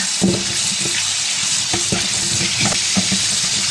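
Indian gooseberries (amla) are rinsed in water to clean off dust and dirt, giving a loud, continuous splashing and running-water wash close by, with small knocks and sloshes throughout.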